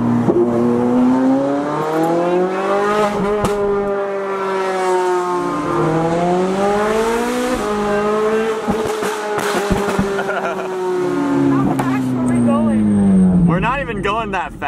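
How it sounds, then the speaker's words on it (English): Ferrari 458 GT3 race car with a race exhaust accelerating hard, loud close engine climbing through repeated rising pitch sweeps with gear changes and brief dips, a continuous raw howl with people talking faintly beneath it. "Welcome to the Ferrari 458 with a race body kit on it and a race exhaust."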